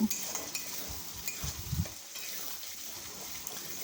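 Boiled mutton being stirred into kosha masala in a pan produces a cluster of scraping, clattering spatula strokes over a low sizzle, then the frying settles into a quieter hiss; close, no speech.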